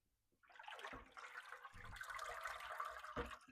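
Water is dumped out of a salad spinner bowl after rinsing greens, a steady rushing splash that runs for about three seconds into a sink.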